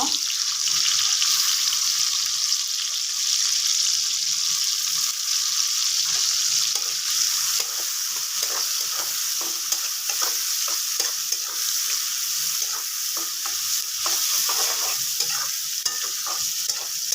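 Onions frying in a pan for rohu fish bhuna, a bright constant sizzle with frequent spatula stirring scrapes in an uneven rhythm, close and without talk.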